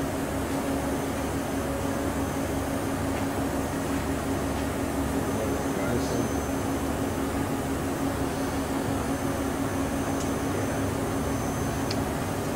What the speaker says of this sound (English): looks like the spindle's slowing down a little bit